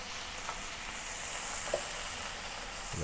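Shrimp fry in a small skillet with a steady close sizzle and hiss, a few faint stirring scrapes, and a soft thump at the very end, with no one talking.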